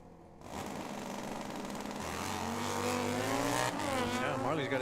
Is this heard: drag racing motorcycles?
yes